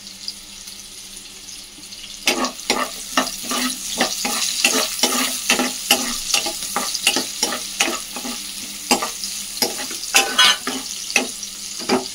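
Onions frying in a pan for egg fried rice: a steady sizzle rises, and then a spatula scrapes the pan in a regular rhythm of close strokes, roughly two per second, for the rest of the clip, with no talking.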